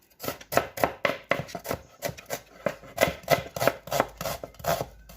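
An onion is finely chopped with a knife on a board, producing quick rhythmic bursts of crisp chopping strokes, close and fairly loud, with brief pauses between runs.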